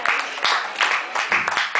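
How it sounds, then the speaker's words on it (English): An audience at a spoken word poetry performance snaps their fingers, a short burst of quick, crisp snaps in several clustered pulses, close and fairly loud. "Snap your fingers."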